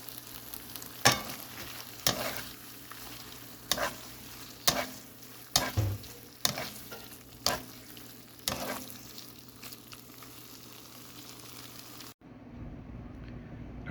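Pasta stirred through a sizzling creamy tomato sauce in a pan, a low steady sizzle broken by a series of scraping stir strokes, close and fairly quiet before cutting off.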